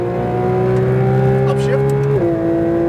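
A Porsche 992 GT3 RS accelerates on the Speed Vegas track, its engine a loud, close, steady rising wail that drops sharply on an upshift near the end.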